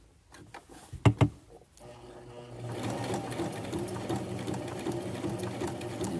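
After a few knocks and handling sounds, a sewing machine starts stitching a machine appliqué and keeps up a steady, close, rapid mechanical whirr.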